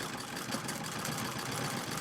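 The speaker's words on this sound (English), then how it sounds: "noise you're hearing is the treadle wheel rolling back" A Singer 66 treadle sewing machine runs steadily, its treadle wheel rolling back and around with a continuous dense mechanical whir and rattle, close and unbroken for the whole stretch.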